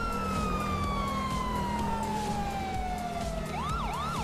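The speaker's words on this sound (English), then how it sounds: "You guys, we have still got the old sirens." Police car siren in the video game GTA V with the LSPDFR mod, a loud wailing tone sweeping slowly downward before switching to a rapid yelp, over engine drone.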